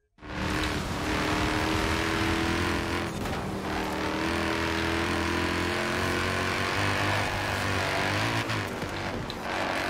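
Mercedes-AMG C63 in Forza Horizon 4, its engine snapping on and roaring loud and continuous with steady revving and shifting tones for about ten seconds, no talk over it.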